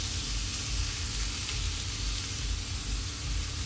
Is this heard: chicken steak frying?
yes